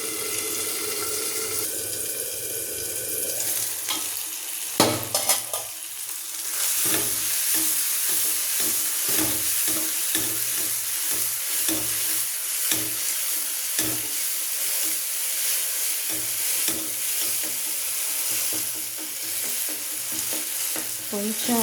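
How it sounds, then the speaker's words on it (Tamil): Tomatoes cooking in a pan for pepper chicken, with a steady close sizzle and repeated scraping, stirring knocks and a brief clatter near the start, with no talking. "கொஞ்சம் மூடி வைக்கணும், அப்படியே வேகட்டும் தக்காளி எல்லாம்."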